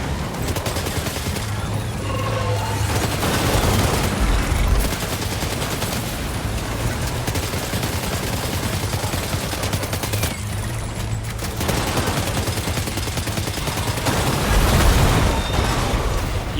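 Assault rifle fire in Death Stranding 2 rattles out in repeated loud bursts with booming blasts between them, sustained throughout and close.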